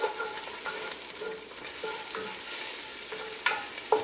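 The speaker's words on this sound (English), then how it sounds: "We give that a quick stir." Mango pieces tossed with masala in a pot for mango talkari get a quick stir, a soft scraping and sizzle with a few sharper spoon clinks toward the end, close and without talk.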